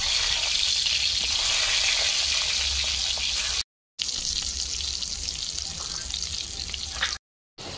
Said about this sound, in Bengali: তেল গরম হয়ে গেছে, কেটে রাখা বেগুন দিয়ে দেবো।